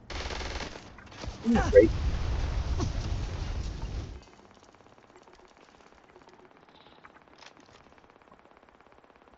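Flesh-melt weapon in the Gorefield video game, a rapid crackling, sputtering burst lasting a few seconds, dense and rattling, with a short spoken remark over it before it cuts to near silence.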